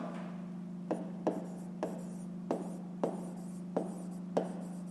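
Pen or pencil writing on paper while working a fifth-grade maths exercise: soft scratching strokes with several sharper taps at irregular intervals over a steady low hum, close and quiet.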